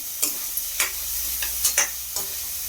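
Vegetables for a raw banana gravy sizzle in a hot pan while a utensil scrapes and stirs in several short, irregular strokes, close up with no talking.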